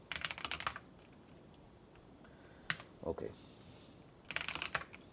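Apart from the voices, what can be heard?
typing on a computer keyboard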